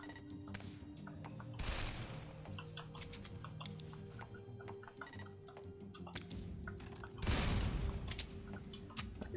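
Turret gunfire in the Jupiter Hell video game: two loud bursts of noisy fire, one early and one later, over a busy bed of small clicks, ticks and game sounds, with no talk.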